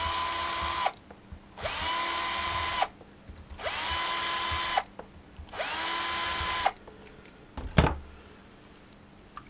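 A power tool drives out screws from the lower valve body of a Ford FMX transmission in four even, whirring bursts separated by short pauses, close up, followed by a sharp clank of a part being set down.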